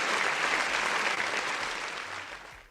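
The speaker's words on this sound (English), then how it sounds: "Give her a round of applause" Audience applause on an MMA talk show, a dense, steady wash of clapping that holds loud throughout and tapers slightly at the end, with no talk over it.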